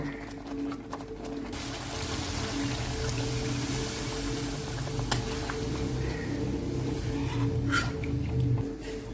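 Water is poured into cooking masala in a pan for paneer Afghani, a soft steady trickle and sizzle over low background hum, with faint clinks near the end.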